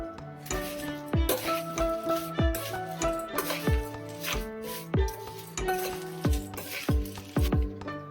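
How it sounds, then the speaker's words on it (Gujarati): Farali bhel with chaat masala being stirred and tossed in a metal bowl, a close series of repeated clinks and scrapes from the spoon against the bowl in a loose, steady rhythm, with no talking. "હવે બધી જ વસ્તુને સરસ મિક્સ કરી લઈએ।"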